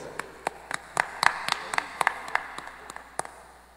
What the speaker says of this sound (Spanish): Fuertes los aplausos